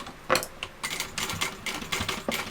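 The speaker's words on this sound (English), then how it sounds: "So we're sewing through our base and the seam and we're top stitching." A sewing machine top-stitches through the base and seam of a tote bag in short bursts of rapid mechanical needle chatter, close and moderately loud with brief pauses between runs.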